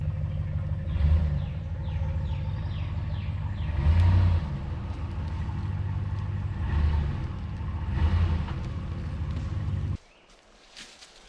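RAM 1500 HEMI pickup truck pulling heavy logs in a forest, a low, steady engine rumble with several swelling surges of throttle every couple of seconds, then the drone drops off abruptly near the end.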